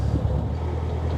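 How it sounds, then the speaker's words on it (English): Wind gusting across open water beside a narrowboat on a canal, a steady low rumble buffeting the microphone throughout, loud and close with no talking. "it's a little bit windy"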